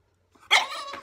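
A dog gives one sharp, close bark that trails into a short whining cry, loud against an otherwise quiet room.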